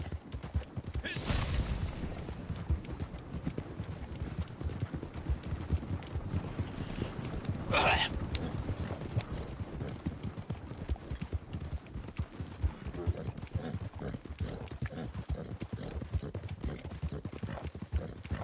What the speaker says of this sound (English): You know, my wagon looks awfully heavy, but my horse is going like it's fully loaded.